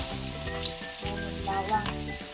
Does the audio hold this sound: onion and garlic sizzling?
yes